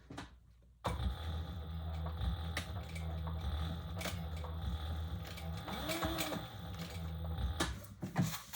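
A sewing machine stitches a seam on a Compass tote bag, running steadily and close after a brief quiet start, with a constant whirring hum and rapid mechanical ticking that continue to the end.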